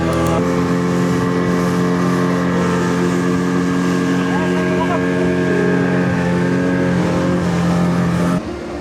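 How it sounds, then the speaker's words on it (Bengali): A speedboat engine at an amusement park runs loud and steady close by, with a strong droning hum that holds throughout and cuts off sharply near the end; people talk over it. "এখন আমরা স্পিড বোট উঠবো"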